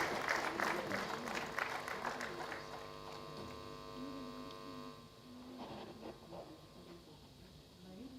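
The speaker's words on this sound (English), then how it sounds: "can we give him a huge round of applause?" Audience applause at an awards ceremony, a moderate wash of clapping from a large hall that fades gradually over several seconds, with a steady hum and faint background tones beneath it.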